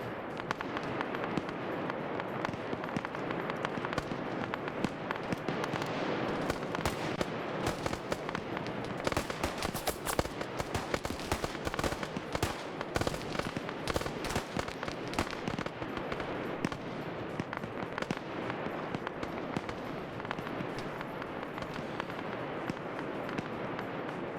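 Mortar shells fall through a town in a multiplayer military video game siege, a continuous barrage of crackling blasts and rapid bursts at moderate level without clear talk.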